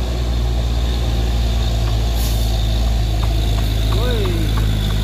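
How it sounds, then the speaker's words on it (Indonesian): A heavy truck engine drones loudly and steadily while climbing uphill, with low rumbling and a brief rising whine near the end, amid constant road noise. "truk yang tadi mencoba menanjak lagi ya"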